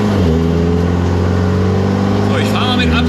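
A Volkswagen Golf 7R with an aftermarket engine control unit drives at part throttle, its engine a loud, steady drone from inside the car that swells slightly toward the end.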